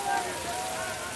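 Steady rain falls around a temple fire, a dense, even hiss of drops hitting surfaces that holds close and constant throughout.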